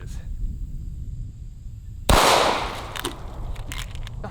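An FP45 Liberator single-shot pistol fires one loud, sharp report midway, which cuts through steady outdoor background noise and trails off in a brief decaying echo.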